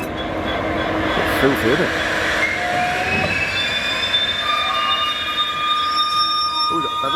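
A train slowing to a stop at a station for a crew change, with high metallic wheel squeals drawn out over a low rolling rumble and clanks. It is close and loud, and a person speaks briefly over it.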